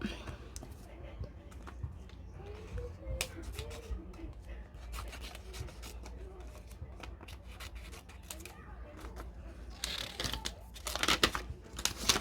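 Scissors cut through a fabric pattern for a jilbab cape, giving soft crisp snipping and crinkling that runs throughout at close range with light handling noise.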